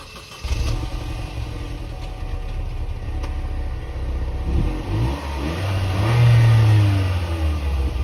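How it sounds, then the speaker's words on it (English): A 2013 Chevy Sonic with a manual transmission accelerates while driving, its engine droning steadily from inside the cabin and rising to a louder revving surge near the end. "Driving the Chevy Sonic."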